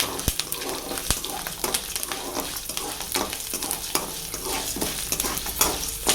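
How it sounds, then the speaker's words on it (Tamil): Urad dal and garlic frying in a pan for a brahmi leaf thuvaiyal, a busy crackling sizzle with frequent stirring scrapes and ticks throughout, close and fairly loud, no talk. "இது கூட பூண்டு ஆட் பண்ணிட்டு இதையும் லைட்டாக சவக்க விடணும்"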